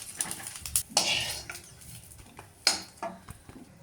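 A utensil stirs chickpeas frying in oil in a pan, making intermittent metallic scrapes and clinks with a few sharper knocks, close and fairly quiet, with no talking.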